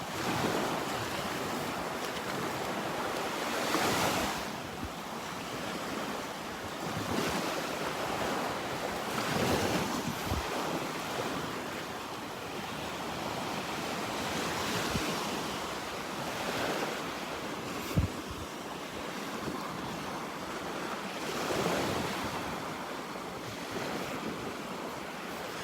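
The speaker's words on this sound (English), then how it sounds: "All the waves breaking over the sandbar out there." Ocean waves break over a sandbar off a beach in North Naples, Florida, a continuous rolling wash of surf with periodic swells, mixed with steady wind rumble across the microphone.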